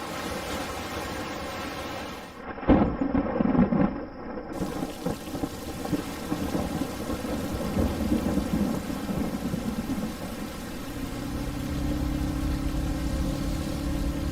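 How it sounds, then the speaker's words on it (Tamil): Steady heavy rain with a loud crack of thunder near the start and rumbling that fades off, then a low droning tone toward the end. "மழை வந்துருச்சு."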